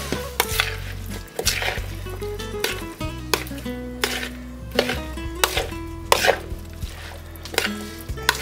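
Potato salad being mixed with mustard in a bowl, a series of sharp clacks and knocks from a utensil against the dish, close and irregular, over a low tonal background with no speech.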